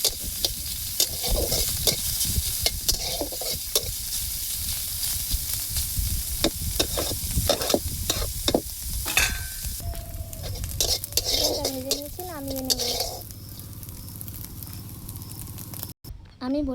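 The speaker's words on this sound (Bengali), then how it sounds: "চিকেনটা ঝুড়ি ঝুড়ি করে কেটে রেখেছি, ভেজে নেব।" Chicken cut into pieces fries in a pan, hissing loudly while a utensil scrapes and knocks repeatedly through the stirring; voices come in near the end as the sizzle thins.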